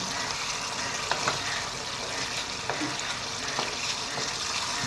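Chicken curry for a dry fry stirred in a hot pan, a constant moderate sizzle with occasional soft scraping strokes and light clinks, no talking.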